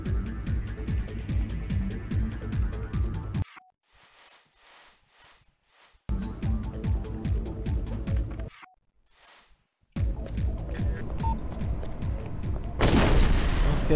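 Booming bomb explosions in the stealth game Hitman: Blood Money, set at a dance party with a pyro show: loud heavy blasts with dense rumbling noise, broken by short quiet gaps, ending in a bright roaring burst.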